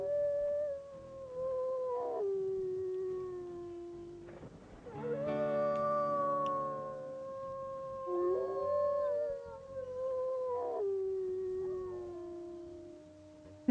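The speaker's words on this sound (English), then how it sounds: "And then you hear Magnus just howling back" Several wolves howl in the WolfQuest video game, long wavering tones that fall in pitch, with a second animal answering in overlapping cries and clustered layered howls near the middle, heard clearly without speech.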